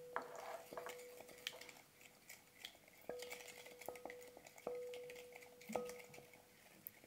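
A spoon stirs mastic, mahlab and cardamom into sweet bread dough in a bowl, with soft scraping and a few sharp clinks against the dish, quiet and close.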